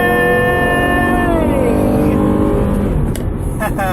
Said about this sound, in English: I'm in the sports car.